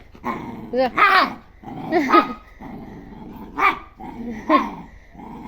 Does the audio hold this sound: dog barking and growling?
yes